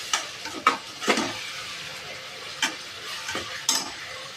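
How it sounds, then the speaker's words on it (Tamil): Quiet sizzling of ingredients for green gram pulao frying in a pan, with a few sharp scrapes and clinks of stirring scattered through. "நம்ம நல்லா ஃப்ரை பண்ணி வச்சுக்கலாம்."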